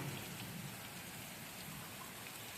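Steady rain falls on a farm field where water is pooling in the furrows, a soft, even hiss of drops that holds at a constant, fairly quiet level for the whole stretch with no voices.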